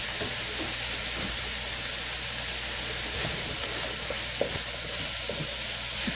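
Onions, garlic, curry leaves, mustard, chilies and grated coconut frying over an off-grid fire, a loud dense hiss held steady throughout, with faint scraping of stirring beneath.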